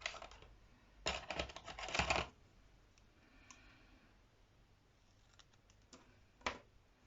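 A few quick clicking snips from small scissors cutting decorations for a DIY gift box, clustered early, then a couple of faint isolated cuts in a quiet room.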